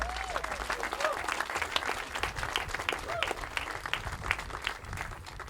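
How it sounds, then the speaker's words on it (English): Steady applause from a crowd at a Memorial Day service, dense clapping that carries on throughout with a few faint voices mixed in. "everybody, give another round of applause to Christopher for everything he's done."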